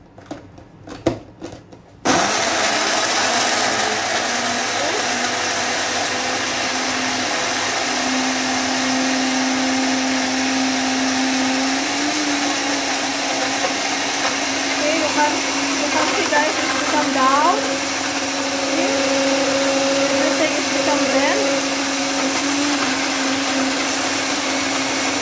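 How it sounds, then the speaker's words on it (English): After a few brief clicks, a blender whirs on and runs continuously, a steady loud motor drone while blending fruit and vegetable juice, with faint talk beneath. "And then blend again."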